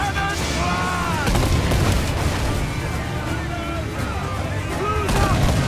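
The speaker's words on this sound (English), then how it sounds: "Uncork the cannon blast!" Ship cannons fire in a naval battle in Assassin's Creed IV Black Flag, several booming blasts spread across the clip amid shouted commands, battle noise and background music.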